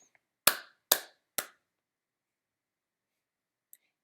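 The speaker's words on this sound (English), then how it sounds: "So I clap this one as" Hands clap a ti-ti-ta rhythm in a third grade rhythm lesson: two quick sharp claps then a third, close and crisp against silence, with a faint click near the end.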